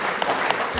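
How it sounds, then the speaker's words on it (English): Audience applause at an evening jazz tribute to a late singer, a brief steady patter of clapping from a gathered crowd with no voices over it. "How about a nice round of applause once again?"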